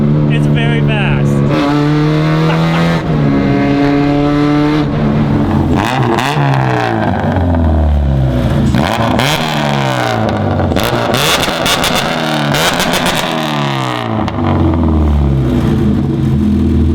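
A loud Honda Civic with a check engine light on revs hard again and again, its engine pitch climbing and falling in repeated sweeps, with voices over the noise.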